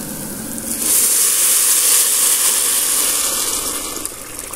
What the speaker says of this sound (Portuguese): Tô esquentando a água pra colocar no arroz.